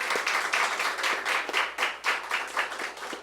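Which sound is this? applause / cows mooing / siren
applause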